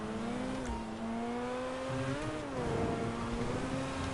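A sports car engine in GTA 5 revs steadily with a high, thin, motorbike-like whine. The pitch holds fairly level, dips briefly and then climbs again, sounding loud and close with no one talking over it.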